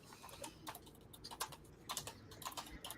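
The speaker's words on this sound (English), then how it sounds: "I'll keep typing it and it'll change it." Irregular clicks of typing on a computer keyboard, a quick string of light, close taps with short pauses between bursts, quiet and alone with no talk.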